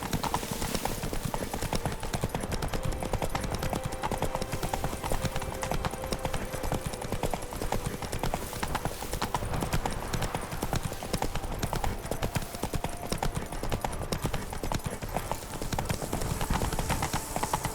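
Roach, the Witcher's horse in The Witcher 3, clip-clops along in steady walking hoofbeats, close and moderately loud, over ambient game sound, with no talk.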